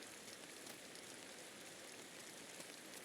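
Steady, faint rain patters across surfaces in the video game Inside, a dense even hiss of falling drops with no voices or other events.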